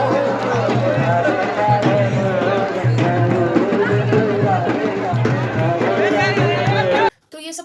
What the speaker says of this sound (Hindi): वहाँ पे जब हम ऊपर चढ़ रहे थे ना, तो कुछ पालकी वगैरह से निकल रही थी और बहुत शोर सा हो रहा था